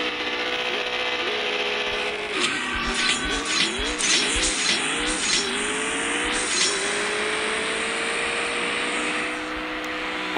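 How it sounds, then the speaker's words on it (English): Engine of a McLaren 650S in a racing video game, revving through a launch and a quick run of upshifts, each shift dropping and climbing the pitch again, loud and close with no talk. "You will want to get a good launch for this car, not perfect."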